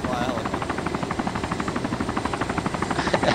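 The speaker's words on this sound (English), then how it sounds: "it's going into the ground! That is not how you fly a helicopter" Helicopter in the ArmA II video game, a steady fast rotor chop with rhythmic thumping, loud and close, as the aircraft goes down toward the ground.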